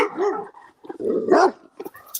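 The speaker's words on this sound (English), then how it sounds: "somebody's got a heck of a bark." A large dog barks loudly in a few deep, growly bursts with short gaps between them, close by and with no talking.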